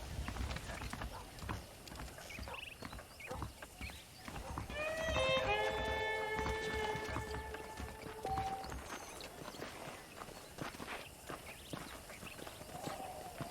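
Steady clip-clopping of horse hooves at a walking pace, close by, in the video game Red Dead Redemption, with a brief melodic tone rising over the middle of the sequence.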